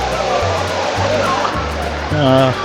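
A waterfall at Richhang Falls in Sajek, crowded with people, gives a steady broad rushing roar under loud, close conversation.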